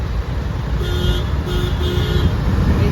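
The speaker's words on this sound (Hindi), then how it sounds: "ये हरे चंडीगढ़ के ट्रैफिक। तो इतना सारा ट्रैफिक हो गई दे, सब गाड़ी रुकी है।" Stalled city traffic in a jam in Chandigarh, India, with a steady roadway rumble of idling cars and a few short car horn toots sounding repeatedly nearby.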